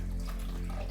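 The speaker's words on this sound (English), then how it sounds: "I'll pour this into the main container just to have enough," About 500 ml of liquid is poured into the main container of a breadboard-prototype dispenser, giving a continuous, close, even splashing gush with no pauses.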